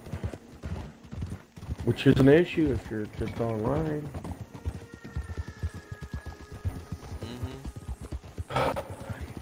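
Horse hooves clop steadily in the online mode of the video game Red Dead Redemption 2, a close and continuous rhythmic beat. Someone talks over them for much of the stretch, and there is a brief whinny-like cry.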